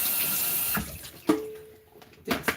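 Tap water runs loudly into a sink, rinsing grains held in a hand during kitchen prep, a steady broadband rush that cuts off, then brief splashes and a final burst of running water.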